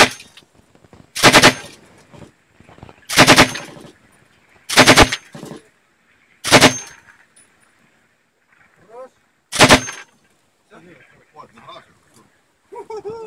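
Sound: automatic gunfire bursts in combat

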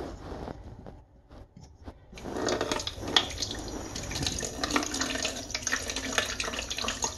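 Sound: water flowing slowly into a toilet tank from the supply

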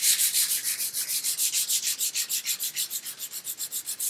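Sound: sanding cured wood grain filler with 220 grit sandpaper

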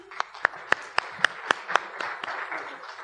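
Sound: audience applause

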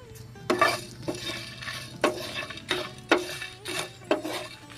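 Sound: lightly frying ingredients in a pan

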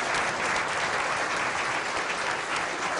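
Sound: audience applause after a lecture

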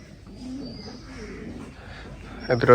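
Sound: pigeons cooing

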